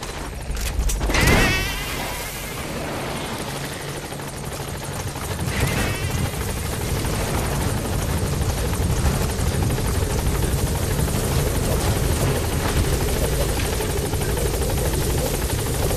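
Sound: support helicopter arriving, video game Metal Gear Solid 5

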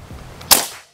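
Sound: PCP air rifle shot, Predator Mini OD 38

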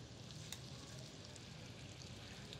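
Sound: pork tenderloin sizzling in butter

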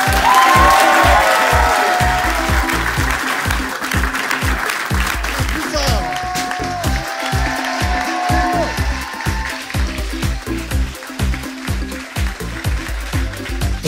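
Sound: applause and cheering for guest Jean-Michel Jarre

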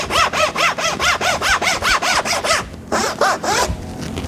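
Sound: Japanese pull saw cutting wood for dovetail joint

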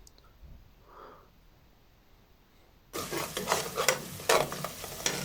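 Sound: stirring dried zucchini in a pan

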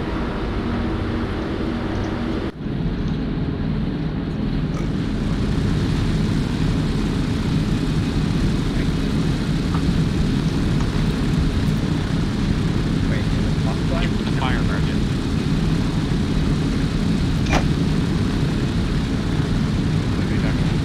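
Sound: aircraft engine in flight, from video game Arma 3

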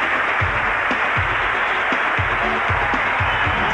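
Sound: audience applause for Helen at a David Copperfield show

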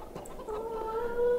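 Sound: chickens clucking in a farming video game

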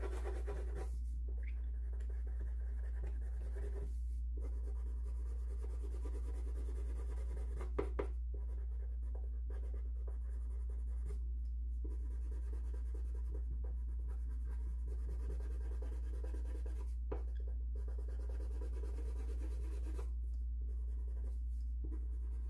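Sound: pencil strokes shading on paper

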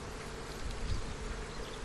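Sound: honey bees in a beehive at Dortmund airport apiary

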